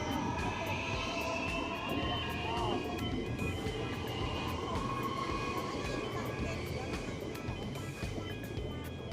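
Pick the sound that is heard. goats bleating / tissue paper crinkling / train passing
train passing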